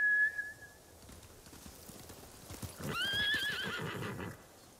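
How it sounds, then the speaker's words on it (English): Samurai mounts in Ghost of Tsushima neigh in a sharp whinny, with hooves clip-clopping near and a brief whistle heard at the start. "Bastards scared off the horses. They're samurai mounts."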